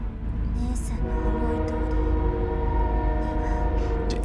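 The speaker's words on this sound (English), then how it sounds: "Another train." A train passes in the Fate/Stay Night: Heaven's Feel video game, a steady, loud rumbling roar with sustained tonal hum running throughout, continuous and close.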